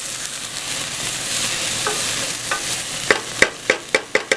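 Spinach sizzling in a hot pan for saag paneer, a steady frying hiss, then a run of sharp, evenly spaced scraping strokes as the greens are stirred, close and clear.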